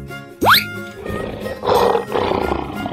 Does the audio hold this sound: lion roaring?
yes